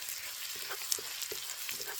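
Garlic and onion sautéing in a pan over low heat, a soft steady sizzle with faint crackles and a few light pops, close by and alone.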